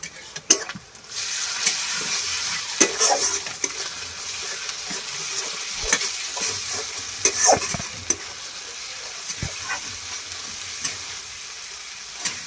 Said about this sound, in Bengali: পেঁয়াজটা ব্রাউন ব্রাউন হয়ে গেছিল, আমরা আদা রসুন দিয়ে তারপরে ভালো করে একদম মিক্সিং করে নেব।